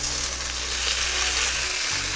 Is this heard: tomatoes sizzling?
yes